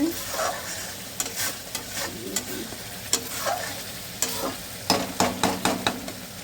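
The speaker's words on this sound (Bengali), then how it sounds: "মশলাটা ভালো করে কষে নিতে হবে।" Spice masala stir-fried in oil for a vegetarian dum aloo: a steady low sizzle carries repeated spatula scrapes against the pan, speeding into a rhythmic series of strokes near the end.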